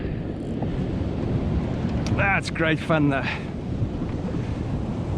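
Wind and ocean surf roll steadily at a beach during a fishing session from a boat in the waves, a broad, noisy rush throughout with a man's brief spoken remark in the middle.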